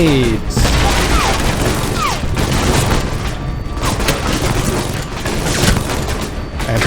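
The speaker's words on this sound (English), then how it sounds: "Grenades!" Grenades explode during a firefight in the video game Alpha Protocol, with loud booming blasts and scattered gunfire crowding the whole stretch in a dense, continuous barrage.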